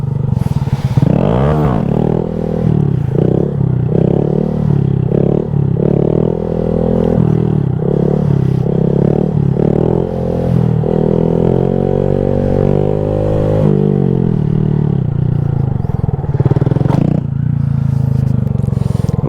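A Honda Grom 125cc motorcycle runs loud and close during a knee-knocker stunt combo, its engine droning and rising and falling, with scraping clatter as the bike grinds against the ground.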